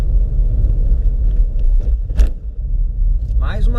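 Volkswagen Up 1.0 MPI rolling over a speed bump at about 30 km/h, a steady low road rumble from the car with a brief thump as the wheels cross, loud and continuous throughout.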